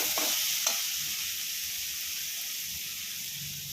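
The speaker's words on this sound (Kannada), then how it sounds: "ಚೆನ್ನಾಗಿ ಫ್ರೈ ಮಾಡ್ಕೊಳ್ಳೋಣ" Tomatoes sizzle steadily in a hot pan for a spicy radish chutney, with a few brief scrapes of stirring near the start over a constant close frying hiss.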